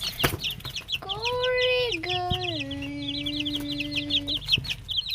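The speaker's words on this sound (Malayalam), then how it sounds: "കോഴികളെല്ലാവരും കൂട്ടയിലുണ്ട്" Hens clucking and murmuring inside a coop, a close chorus of short repeated clucks with a drawn-out squawk in the middle, and a brief voice speaking at the start.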